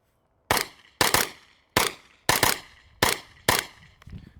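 Six sharp rifle shots from a JP5 rifle fired at a steady, unhurried pace, each crack loud and close with a short ringing decay and light mechanical clatter as casings eject.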